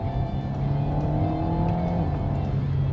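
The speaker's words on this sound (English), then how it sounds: "you're met with a really nice combination of proper old school exhaust noise and also some tuned turbo noise which fizzes and hisses" An Alpine A110 sports car's engine held at high revs, a loud, steady exhaust drone with turbo fizz and hiss, heard close and continuous throughout.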